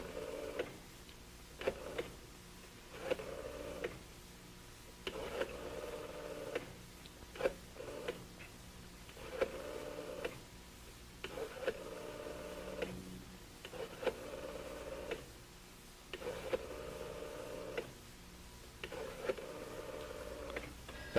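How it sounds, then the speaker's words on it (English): A rotary telephone in ordinary use being dialed, heard as repeated bursts of soft mechanical clicking and whirring as the dial returns, spaced out by brief pauses, faint and close with no talk. "This is the regular type telephone used today, and I'm going to dial up a number"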